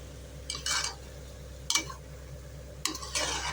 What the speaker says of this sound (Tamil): இந்த ரைஸ் வந்து நல்லா இதிலே வதக்கி